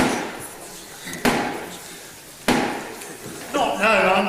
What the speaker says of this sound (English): as the black rod banged on the chamber door